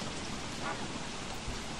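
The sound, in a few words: rain in the video game Don't Starve Shipwrecked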